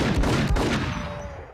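A quick burst of several loud shotgun blasts in rapid succession in the video game Max Payne, then a fading ringing tail.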